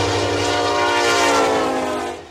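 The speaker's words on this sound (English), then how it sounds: "We wanted to hear the train." A train passes close by and loud, with a sustained rumble and tonal horn-like layers that hold steady and then fade slightly near the end. No voices are heard over it.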